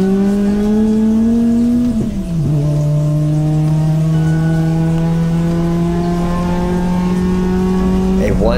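A race car rounds the final two corners of the TMP Cayuga circuit, its engine droning loud and close, dipping briefly on a downshift before holding a steady high note.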